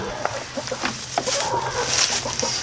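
A hen in a barn clucks steadily with soft, close repeated notes over a constant hiss of background noise, with some higher squawks mixed in.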